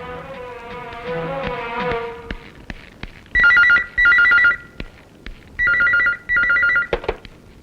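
A telephone rings in two pairs of loud electronic bursts, each pair a quick double trill, following a stretch of musical tones with no talk over the ringing.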